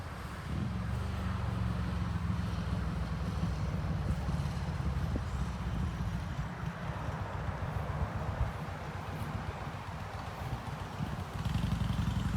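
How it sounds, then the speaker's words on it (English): Steady roadside traffic rumble with trucks passing on the road out front, a loud continuous low roar with wind buffeting the microphone throughout, no talking. "It might be a little loud with trucks and whatnot going by on the road right out in front of us"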